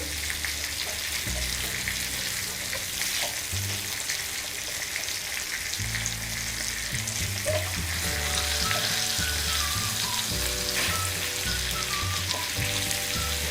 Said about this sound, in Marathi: कमी गॅसवर 3-4 मिनटं एका साईडनी बागडे फ्राय करून घ्यायचे आहेत